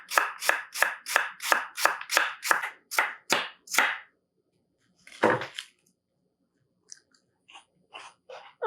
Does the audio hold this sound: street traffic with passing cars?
no